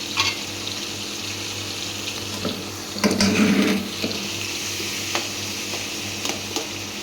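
Steady sizzling of leftover rice being tempered in a pan, with a burst of stirring and scraping midway; no talking.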